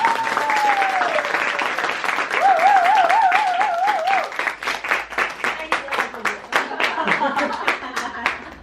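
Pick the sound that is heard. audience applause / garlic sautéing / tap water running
audience applause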